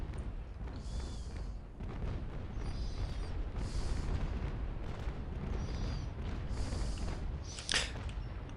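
Cannon broadsides from sailing warships in the Naval Action video game: a continuous low rumble of distant heavy booms rolling under the battle, with bursts of higher hissing and creaking noise recurring every second or two, and no talk.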